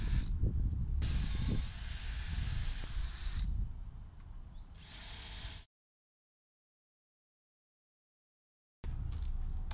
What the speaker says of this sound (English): I drill the holes with a cordless drill and then I insert the screws.